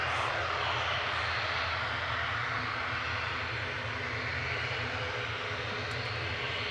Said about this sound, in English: Aer Lingus Regional with flight 3323, EIGZV, a little ATR 72-600